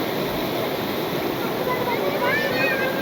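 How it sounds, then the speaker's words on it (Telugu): Clear mountain water flowing steadily at Vibhuti Falls, a continuous broadband rushing that stays loud and even throughout, with no voices over it. "వాటర్ ఫ్లో ఏనండి, సౌండ్ బాగుంది."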